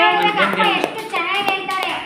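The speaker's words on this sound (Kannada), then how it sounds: "ಚಪ್ಪಾಳೆ ಹೊಡೀರಿ ಅಪ್ಪನಿಗೆ" An audience gives a few scattered claps, short sharp slaps heard close under a loud voice speaking throughout.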